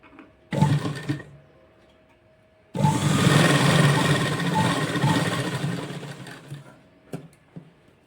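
A sewing machine stitches the folded hem of a double-layer lehenga: a short burst of whirring, a pause, then a longer steady run of several seconds, with a few clicks of handling afterward.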